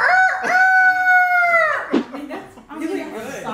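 A person imitates a rooster's crow with a long, drawn-out, strained call, followed by some short vocal noises.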